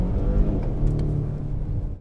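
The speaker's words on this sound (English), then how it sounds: "you can hear sort of a little bassy note coming out from the rear" A 2019 Volvo S60 T6 AWD accelerates with a low, bassy exhaust note from the rear, a steady close rumble that holds for two seconds before cutting off abruptly.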